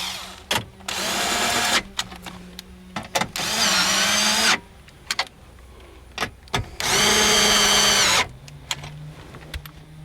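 A power drill drives three 5/16 bolts into the dash plate of a 1999 Ford Crown Victoria P71, three loud sustained whirring bursts separated by clanks and handling noise, close by.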